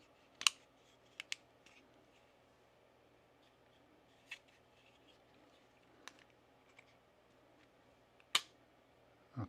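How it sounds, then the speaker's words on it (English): Trigger reset on a SIG P320 pistol, giving a few sharp, isolated clicks spaced seconds apart in a quiet room. "I gotta reset the trigger."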